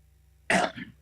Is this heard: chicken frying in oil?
no